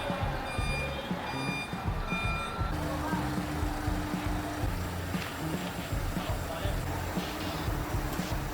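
A MAN TGA 26430 truck sounds its reversing beeps as a steady repeating tone, heard close over a low diesel engine rumble and background noise.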